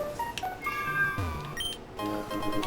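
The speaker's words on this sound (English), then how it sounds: "I apologize if you can hear my cat screaming in the background." A pet cat yowls and meows in a series of loud, wavering cries indoors, several separate calls rising and falling over about three seconds.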